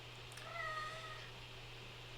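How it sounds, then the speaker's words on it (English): A domestic cat gives a faint, distant meow over a quiet indoor hum, then makes a sharper sound right at the end. "my cat's meowing"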